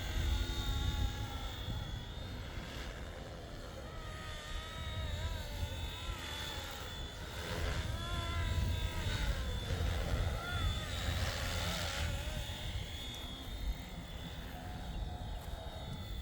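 A Flywing FW450 V2.5 RC helicopter with a gear conversion flies close by, its whining rotor and motor rising and falling in pitch through steady passes as someone talks over it.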